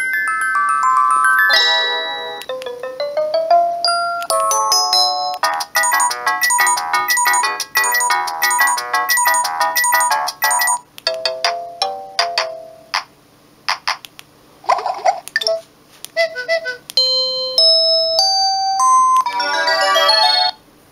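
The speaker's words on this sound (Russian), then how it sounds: "Звуки сообщений." A run of electronic message alert tones from a Samsung C110 mobile phone plays one after another, bright beeping melodies and chirps separated by short pauses, loud and close with no voices.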